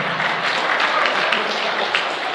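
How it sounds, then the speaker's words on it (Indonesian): An audience at a Ramadan religious lecture in Saudi Arabia applauds, a steady, dense crackle of many hands clapping at once, evenly sustained throughout. "Tepuk tangan untuk Indonesia."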